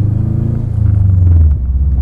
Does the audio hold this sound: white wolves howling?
no